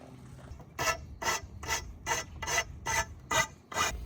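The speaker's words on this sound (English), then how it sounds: "We'll take a file to this and deburr it." A hand file rasps across a metal link plate for a sailboat headstay, deburring its edges in eight even, close strokes with short pauses between them.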